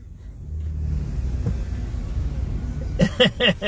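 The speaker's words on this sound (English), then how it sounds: "Nice truck." A truck's engine rumbles low and close as it pulls away on a cold Chicago street, the revving growl building steadily before a voice cuts in near the end.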